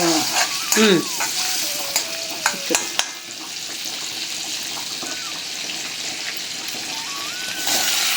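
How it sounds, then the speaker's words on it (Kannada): Ground cashew masala paste fries in about 50 grams of butter, hissing steadily up close, with a few spoon clatters and faint tonal background sounds near the start. "ಇವಾಗ ಇದನ್ನ ಫ್ರೈ ಮಾಡ್ಕೊಳ್ಳೋಣ"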